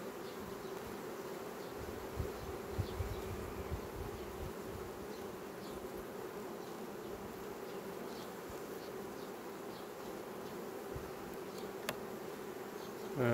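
Honey bees buzz steadily during a hive frame inspection while the colony is being reduced, a continuous close drone with no talk over it.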